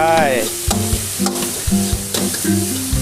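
Minced pork with holy basil stir-frying dry in a hot wok, old-style Thai krapao: a loud sizzle broken by sharp spatula strikes and scrapes against the metal, with a steady tonal hum running underneath.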